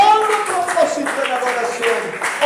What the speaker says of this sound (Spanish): que le dé un aplauso con júbilo